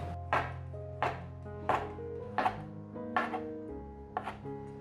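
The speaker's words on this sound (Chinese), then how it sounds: "把香菇切条， 把香菇切小丁，" A knife chops fresh shiitake mushrooms into strips and small dice on a cutting board, six sharp, evenly spaced strikes about a second apart over soft background music.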